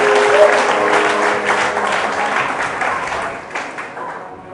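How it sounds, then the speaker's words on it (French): A church congregation applauds loudly for Jesus, a dense, steady wave of clapping that fades out gradually toward the end. "Est-ce qu'il y a quelqu'un qui peut acclamer Jésus ce soir?"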